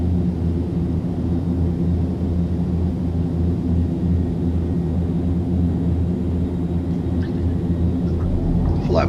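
Fokker 50 turboprop engines in X-Plane 11 hold a steady, loud droning rumble with strong tonal hum, running continuously throughout, with a faint brief rise near the end.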